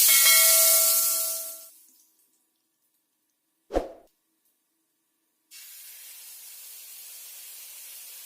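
Cooked jackfruit dropped into hot ghee in a pan gives one short, sharp splat, then a steady frying hiss starts a little later and carries on alone.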